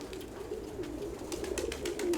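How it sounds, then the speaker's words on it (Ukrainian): An old pigeon cooing in soft, low repeated calls, faint and fairly close, over a steady background hiss. "Это старый голубь"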